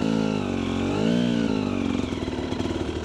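An enduro motorcycle's engine hums steadily at close range during a slow-riding distance test, its pitch dipping and rising as the rider works the throttle, then breaking into a choppy, pulsing note.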